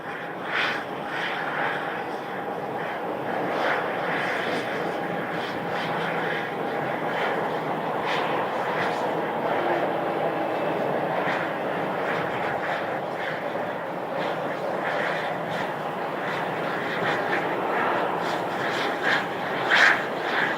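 A Boeing 737-800 from San Diego taxis across a bridge at Phoenix Sky Harbor, its engines a steady, moderately loud whine and rumble with slight fluctuations throughout.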